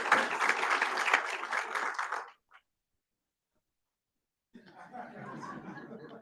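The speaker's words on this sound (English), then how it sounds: "A round of applause, please, Estelle." Conference audience applauding in a dense burst of clapping with some laughter for about two seconds, then a pause of near silence before a second, softer round of clapping resumes.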